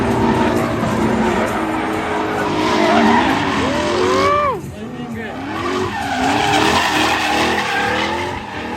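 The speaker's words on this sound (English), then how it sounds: "I was chasing someone, and in front of me he spun out, and I luckily drifted behind him." Drift car sliding through a race, with loud tire squeal and skidding rising and bending in pitch, a brief drop in the middle, then more sustained screeching tire howls close by.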